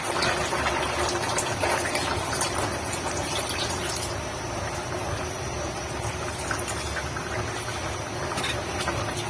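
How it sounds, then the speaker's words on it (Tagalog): Coconut milk, the first thick extract, is poured into a cooking pot with jackfruit, producing a steady splashing, gushing liquid noise that runs continuously and fairly close for several seconds. "Saka natin ilagay ang unang tiga ng gata."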